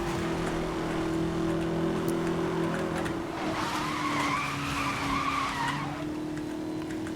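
A race car in Need for Speed: Most Wanted (2012) accelerates with a steady, droning engine tone, and tire squeal rises in the middle of the run. The game sound plays alone, with no speech.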